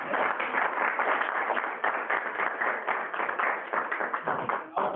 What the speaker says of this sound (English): One more round of applause for Chris.